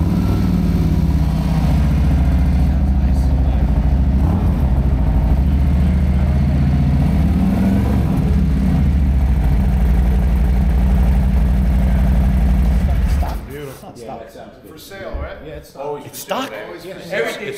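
A motorcycle fitted with a new exhaust pipe and an uncammed motor idles with a loud, steady low rumble for about thirteen seconds, then cuts off as people talk over the quieter end.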